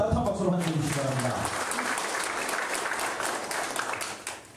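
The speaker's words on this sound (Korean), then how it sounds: "여러분 따뜻한 박수로 환영해 주시기 바랍니다" Steady applause from an audience at a Gyeongbuk disabled sports association policy workshop in 2013, dense clapping throughout with an announcer's voice fading out at the start.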